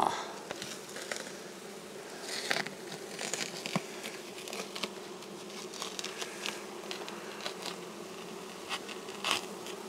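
Honeybees in a Dadant hive hum and buzz close by in a steady drone, with many small crackles and rustles from the frames and comb running through it, and no talking.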